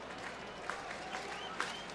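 Baseball crowd at the Cardinals stadium during a Braves game applauding steadily, a broad distant wash of clapping with a few sharper individual claps standing out.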